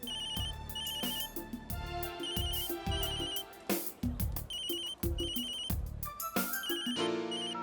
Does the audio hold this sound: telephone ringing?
yes